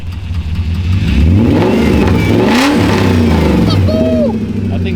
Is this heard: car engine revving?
yes